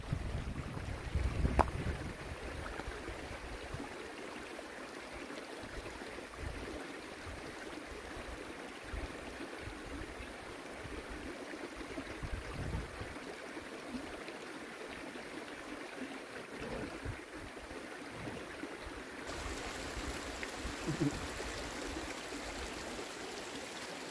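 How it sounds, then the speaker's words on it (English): A creek flows steadily as broadband water rush that runs throughout at moderate level, with no voices and only a brief knock near the start. "Into the creek."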